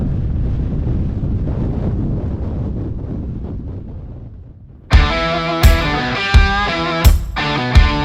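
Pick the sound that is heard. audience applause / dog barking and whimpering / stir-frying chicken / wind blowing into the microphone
wind blowing into the microphone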